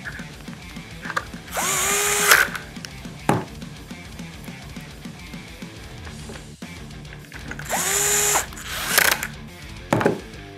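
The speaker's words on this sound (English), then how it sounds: "Then you're going to take your screws and screw it together." A power drill drives screws into a holster belt clip in two separate bursts that whir up and then stop, close by, with small clicks and handling knocks between them.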